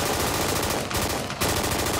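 Gunfire in the Squad video game on the Kohat Toi map roars in a dense, continuous automatic burst that stays loud and close, with a brief dip midway through.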